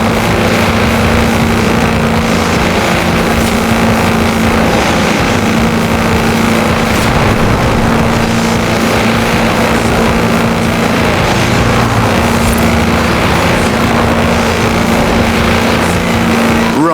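A tractor on 4-inch mud tyres racing at speed in Forza Horizon 4, its engine giving a loud, steady, continuous drone throughout with a constant hum beneath.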